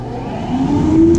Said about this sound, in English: I'm going to turn on the machine now.